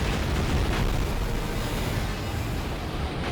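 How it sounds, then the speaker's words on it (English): A Kamikaze barrage in Ratchet & Clank: Size Matters sets off a dense, roaring wall of explosions that rumbles loudly and continuously for about three seconds. "Kamikaze barrage!"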